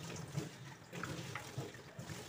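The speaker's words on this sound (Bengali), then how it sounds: "ধুয়ে একবারে সুন্দর করে জল ভরে নেবো" Water runs and splashes steadily as plastic bottles are washed and filled, a continuous close trickle and gush with small knocks from the bottles, no voices.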